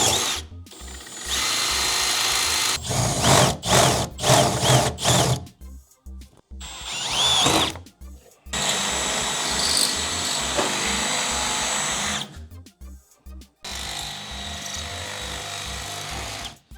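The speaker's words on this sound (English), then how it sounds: "we got holes to drill." A power drill bores holes through a Jeep XJ body while fitting Notch X-MAX fender flares, in repeated loud, close bursts of whirring separated by short pauses.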